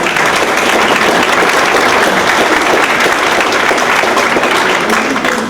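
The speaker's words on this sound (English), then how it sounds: "I'd like to give him a round of applause." A room full of people at a legislative forum clapping steadily and loudly for several seconds, a dense, even wash of applause.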